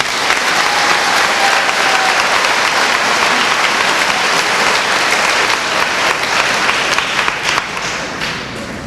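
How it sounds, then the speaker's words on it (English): An audience at an eighth grade graduation ceremony applauds, producing a loud, dense wash of clapping from many hands that holds steady throughout and eases slightly at the very end, with no one speaking over it. "Give them a round of applause."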